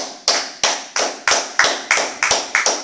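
A church congregation claps rhythmically in praise of Jesus, about nine sharp, evenly spaced claps, loud and close.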